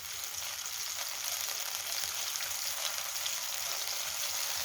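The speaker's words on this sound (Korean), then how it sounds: "이렇게 해서 볶아주세요." Steady, quiet sizzle of frozen green onions being stir-fried in a pan, a continuous crackling hiss with no pauses and no talk.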